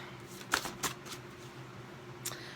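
Tarot cards are shuffled and drawn, giving a couple of soft, quick riffling snaps close by followed by one more flick, in a quiet room without speech.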